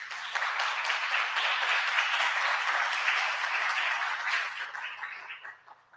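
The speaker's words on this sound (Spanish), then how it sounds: "Un aplauso, por favor." Audience applause at an academic symposium, a steady wash of many hands clapping that holds for about five seconds and then thins out toward the end.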